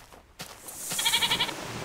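A goat bleats once in a modded survival video game, a wavering call coming in after a sharp click and rising loud and close over a soft background.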